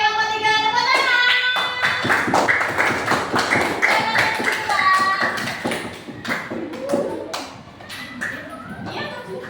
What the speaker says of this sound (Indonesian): kelompok 3 tepuk tangan